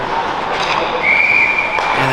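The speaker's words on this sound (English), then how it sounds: "And a whistle." A referee's whistle at a minor-league hockey game between the Cincinnati Cyclones and Music City Marauders, one sharp sustained blast about a second long over the arena crowd's roar.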